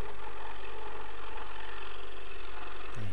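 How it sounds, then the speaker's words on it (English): Bandsaw or scroll saw cutting a wooden dolphin bookend shape out of a board with a pattern pasted on, a steady loud motor drone running throughout with no pauses and a brief change near the end. "cutting it out now using a bandsaw or scroll saw even."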